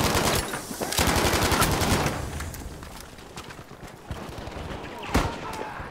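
A VGO machine gun fires in Battlefield 5, with rapid, loud bursts of automatic fire, then a pause and scattered shots and distant gunfire.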